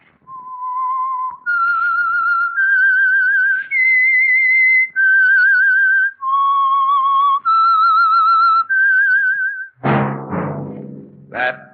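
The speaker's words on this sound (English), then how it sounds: "That whistle is your signal for the Signal Oil program, The Whistler." Whistled theme tune of The Whistler, the 1948 Signal Oil radio mystery program: a lone, clear melody of sliding phrases that rise and fall steadily for about ten seconds, then gives way to a sudden full orchestral chord.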